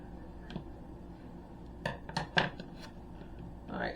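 A knife cuts food into pieces for shrimp and grits, giving a few scattered, crisp taps and clacks against a board or dish. They come in a brief irregular cluster, close by and fairly quiet, with no talking.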